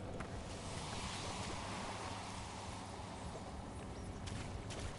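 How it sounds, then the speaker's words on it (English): Steady rushing wind sweeps through trees in the fantasy game Dragon Age: The Veilguard, a continuous broadband whoosh that holds even and fairly loud for the whole stretch, with no voices over it. "Is it just spooky wind through trees?"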